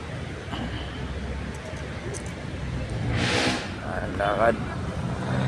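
A car engine runs and moves under background voices and scuffling, a low rumbling drone that swells slightly midway, with people talking nearby.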